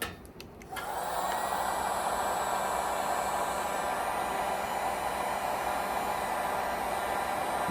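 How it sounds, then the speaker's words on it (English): A heat shrink gun switches on after a brief click and blows a steady, loud hiss-like whirr of hot air onto heat shrink tubing, holding at an even level with no talking. "I've got one of these handy dandy heat shrink guns. And I'm going to heat shrink this."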